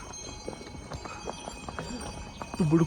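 A mule carrying a rider gives a steady run of soft clip-clop hoof steps on a trail. Voices are heard faintly with the hooves, and a louder sound rises right at the end.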